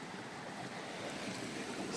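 Steady rushing and splashing of water while someone wades through a shallow brook pool during trout fishing on Sawmill Creek, a continuous close wash with no pauses.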